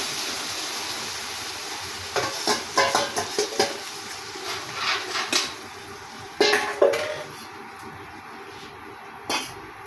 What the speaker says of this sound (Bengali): এখন আমি ডালটা দিয়ে দিব